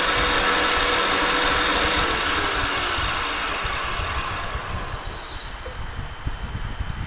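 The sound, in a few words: sanding wooden acorn box with sandpaper on lathe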